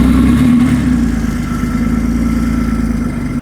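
A slightly rusty Porsche 914 project car's engine runs steadily close by, a loud even idle with a faint rev near the start before it cuts off abruptly.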